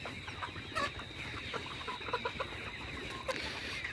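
Layer hens cluck and chatter steadily in a poultry farm shed, a dense flock sound with occasional sharper calls over a constant background hum.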